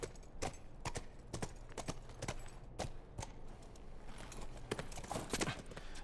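Horse hooves clip-clop at a walking pace in The Last of Us, a regular series of sharp clicking steps over quiet background ambience.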